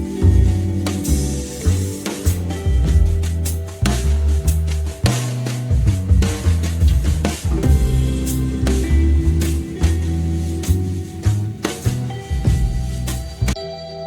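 An ambient song plays with drum bus compression set to a fast attack and slow release, a dense, loud mix of steady pads and bass under regular drum hits that pump the overall level.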